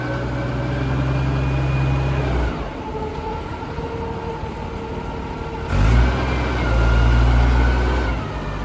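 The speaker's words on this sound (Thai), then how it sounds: "วันนี้มาแนะนำรถตักก่อยางนะคะ จะเป็น TCM รุ่น ST25 นะคะ" A used, imported TCM SD25 wheel loader with an Isuzu engine runs nearby, its loud, steady engine drone easing off midway and then revving back up before settling into a strong idle.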